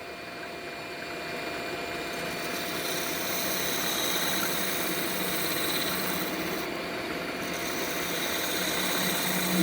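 A wood lathe spins an end-grain bowl while a Termite tool cuts its recurved foot, giving a steady close whirring hum with a light scraping hiss that swells slightly partway through.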